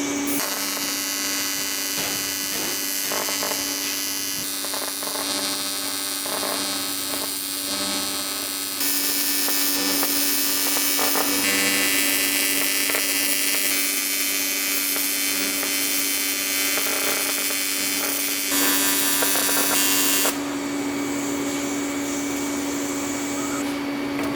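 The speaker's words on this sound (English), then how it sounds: "we got our bead welded for the clamp to grab onto" Arc welding a bead onto the bend of an exhaust pipe during a Cummins swap on a Ford F-350 dually gives a steady, loud electrical buzz and crackle, continuous for the whole stretch with a few shifts in intensity, and no talking.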